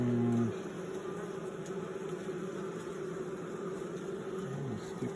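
Carniolan honey bees buzz steadily in an open hive, a dense continuous drone that stays close and loud for the whole stretch with no talk over it.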